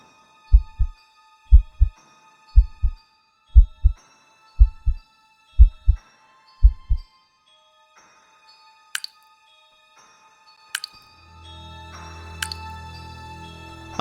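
Heartbeat sound effect: a run of loud, close double thumps in an uneven rhythm stops after about seven seconds, followed by sparse clicks and a low hum that swells near the end.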